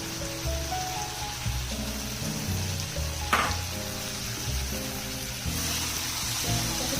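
Tomato pieces fry with browned onions in a pan for a drumstick and egg curry, a steady close sizzle with a sharp stirring clatter midway, under continuous background music.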